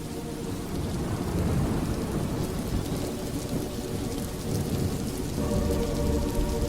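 Steady rain pours down over a village with a continuous dense hiss, while low thunder rumbles beneath it throughout.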